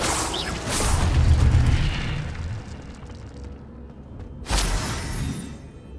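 Incendio fire spell in Hogwarts Legacy bursting with a deep whooshing boom, followed by a fading rumble and then a second sharp burst near the end.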